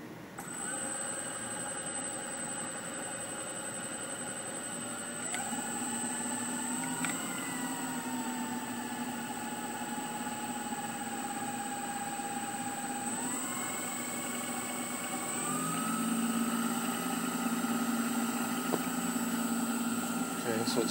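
A Toyota Prius IPM electric motor, running on a test bench with no load, whines up through several rising tonal steps into a steady high-pitched electric hum that holds and climbs again, close and fairly quiet throughout.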